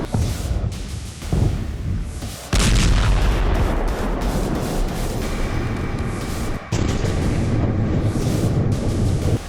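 Heavy explosions and artillery-like blasts in Syria, with deep booming impacts and a sustained roar of rumbling fire; loud and dense, with sharp onsets around a few seconds in and again later.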